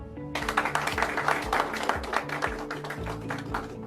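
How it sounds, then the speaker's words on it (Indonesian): An online webinar audience breaks into applause, a bright, continuous clatter of clapping that starts abruptly and holds steady over a sustained musical tone with low tones rising underneath. "Mohon tepuk tangan"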